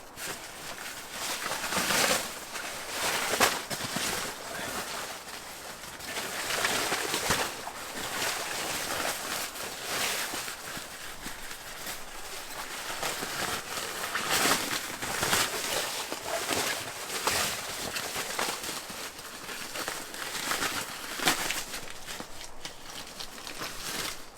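A stuff sack pump pushes air into a sleeping pad during a winter hot-tent camp, making a steady run of rustling, whooshing bursts of fabric and air at close range with no talking.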